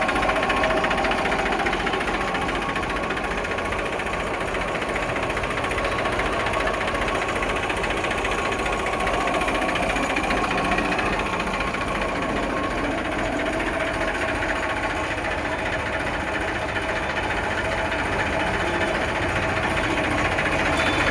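A 2015 Eicher 380 tractor engine runs at a steady idle, a continuous close mechanical chugging with fine rapid knocking that never varies in level.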